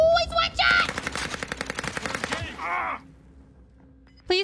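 Rapid automatic gunfire rattles in a squad battle-royale video game, a dense burst of evenly spaced shots for roughly two seconds amid a short shout, then a lull before another sharp report.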